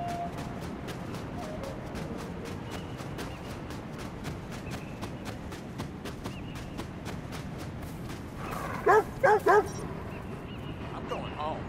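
A dog in the video game Watch Dogs 2 yips and whimpers briefly near the end, over a steady bed of game ambience and rapid rhythmic clicking; someone talks through much of it.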